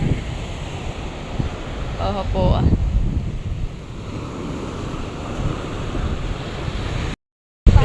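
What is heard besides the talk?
big sea waves on a beach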